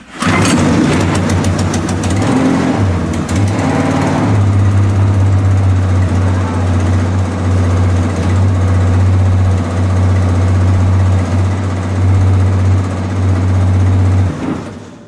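A small engine on a sprayer sputters and cranks for a few seconds, catches, then runs at a loud, steady idle close by until it cuts off near the end.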